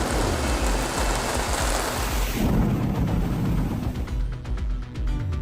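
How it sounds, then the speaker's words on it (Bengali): A storm with thunder and heavy rain, a Kalbaisakhi squall in Bangladesh, brings a deep rumbling roll over a dense roar of rain, loud and continuous and fading toward the end. "বজ্রপাত"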